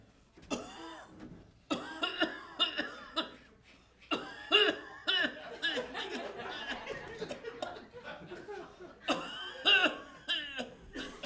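Several rough coughs come in bursts, mixed with chuckles and laughter from a small group, with pauses between fits.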